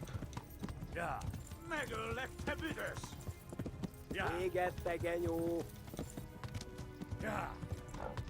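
Horse hooves clip-clop at a riding pace in the medieval video game Kingdom Come: Deliverance, a steady rhythmic clatter running under someone talking throughout.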